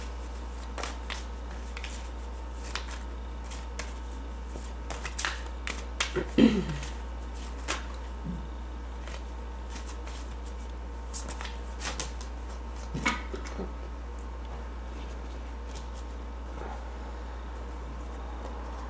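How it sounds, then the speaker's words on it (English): Tarot cards being shuffled by hand, soft scattered flicks and riffles that come in sparse bursts over faint background hum, close and quiet, with no talking. "these three cards popped out as I was shuffling"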